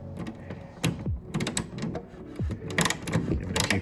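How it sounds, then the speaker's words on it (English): A ratchet with a 10 mm socket tightens a bolt on a VW Passat reverse light fitting, giving several short bursts of close clicking and mechanical cranking in quick, uneven strokes. "Take your ratchet, put your 10 millimeter on there."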